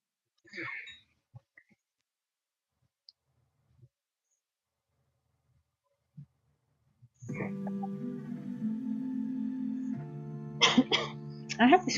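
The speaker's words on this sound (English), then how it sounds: "I have this cough." A short cough near the start, followed by scattered faint clicks and silence, then music with a voice begins and carries on to the end.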